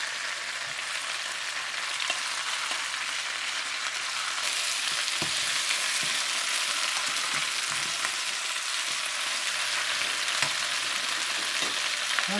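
Cut potatoes and a carrot frying in a pot of curry chicken drumsticks: a steady, loud sizzling hiss held throughout, close up, with occasional faint clicks of stirring and no voices.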